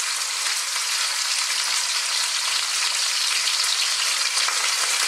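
Bacon or pork and a little celery frying in hot oil in a pan, a steady, dense sizzle that stays loud and even from start to finish with no voices.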